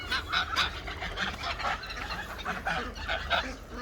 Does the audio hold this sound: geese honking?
yes